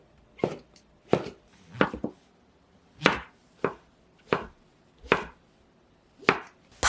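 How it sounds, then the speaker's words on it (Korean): A knife slices mushrooms lengthwise on a cutting board while preparing a Korean dish, about ten crisp separate chops in an unhurried, even rhythm, close and clear with silence between strokes. "버섯은 길게 잘라주세요."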